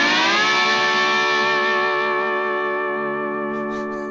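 A lap steel guitar played dry, with no reverb or delay, rings out one loud sustained chord whose tones slowly fade over four seconds, ending with a few faint clicks.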